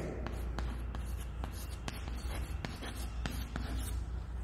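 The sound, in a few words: writing by hand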